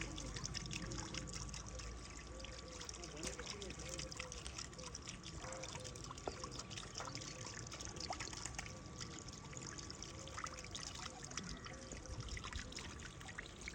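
Water running steadily from a tap in Romania, a continuous splashing trickle with faint background noise throughout.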